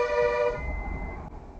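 A single loud bus horn blares for about half a second on the Valparai hairpin-bend mountain road, then fades into engine rumble and road noise.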